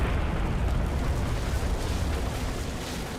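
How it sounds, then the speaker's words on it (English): A bomb strike explosion in War Thunder, a loud, deep, rumbling blast that fills the whole moment and slowly tapers as it rolls on. "Nice bomb strike"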